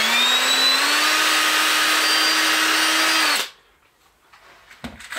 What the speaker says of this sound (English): I'm just drilling pilot holes here